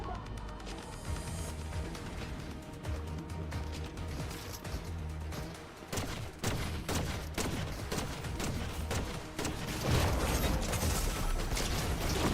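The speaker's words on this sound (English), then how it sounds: "I'm getting shot at by a bot player" A bot player fires at the player in a superhero-season video game, heard as bursts of rapid, clattering gunfire and mechanical clanks that repeat across the span over dense game sound, with no talking.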